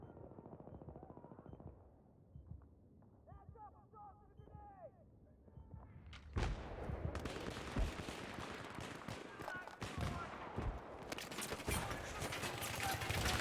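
Sniper rifle gunfire in a video game: sharp loud shots and rapid bursts of gunfire building in the second half, preceded by quieter ambient sounds, with someone talking intermittently.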